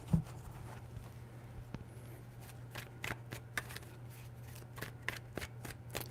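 Tarot cards being shuffled during a reading, a run of quick crisp riffles and flicks close by, repeating irregularly over a faint steady hum with no talking.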